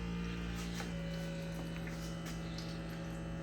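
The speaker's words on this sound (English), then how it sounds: "So I have this thing right here, this mist sprayer." A mist sprayer in a hydroponic banana growing system gives a steady, faint electric hum and buzz that holds without change throughout.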